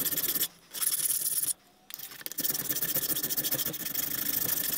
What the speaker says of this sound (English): we're going to be doing a lot of hand filing with a 60 degree triangle file